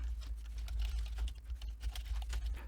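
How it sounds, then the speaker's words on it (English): Quick, steady keystrokes clatter on a computer keyboard, a close, soft run of rapid clicks without pauses and with no talk. "So I very quickly typed out some text"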